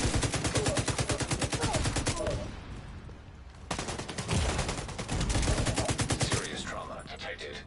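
A light machine gun fires in The Division 2, with dense, rapid bursts of loud automatic fire, a short pause of about a second, then another long sustained burst.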